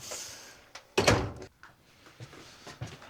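A door on a horror-film house set thuds once near the start, a single loud knock-like bang followed by quieter bumps and scuffs, with no talking.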